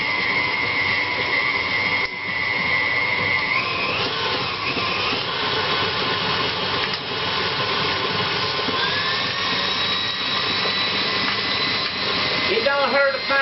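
Electric mixer beating wedding cookie dough in a home kitchen: a steady, close motor whir with a shifting pitch and rattling churn, someone talking over it.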